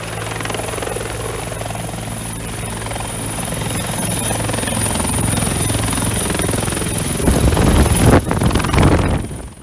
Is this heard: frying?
no